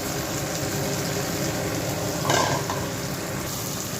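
Vermicelli (shavige) frying in a little oil in a pan, a steady soft sizzle with a brief louder scrape of stirring midway, close and continuous.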